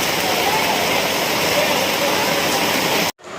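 Heavy rain and rushing water at the Shiv Ganga make a loud, dense, continuous hiss close by. It cuts off abruptly near the end.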